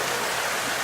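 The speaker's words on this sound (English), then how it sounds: "There's the waterfall." Steady rushing hiss of a small waterfall and stream pouring past a culvert pipe at a cove, constant and fairly close with no other sounds during the short moment.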